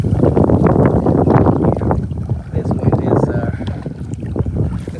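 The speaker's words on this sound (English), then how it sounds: "Wind's a killer, guys." Strong gusty wind buffets the microphone while kayaking on the Trinity River, a dense continuous rumble with choppy bursts and faint water sounds, loud and close throughout.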